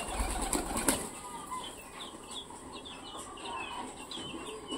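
Pigeons flap their wings in short bursts close by, with a sharp flutter near the start followed by lighter rustling and faint clucking fowl sounds.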